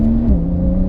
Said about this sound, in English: let's go Sport Plus. Yep. Oh, there it is. And let's open it up on this little straight here.